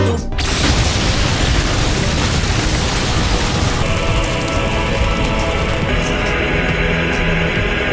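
Anime explosion from a Fire Style bomb blast jutsu: a loud, sustained roaring blast with crackling debris that fills the whole stretch, staying dense and steady without pause.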